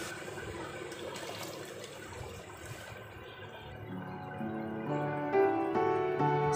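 Water pours into a pot of cooked masala for mutton pulao, a steady liquid splash that rises slightly in pitch as the pot fills, heard alone without talk.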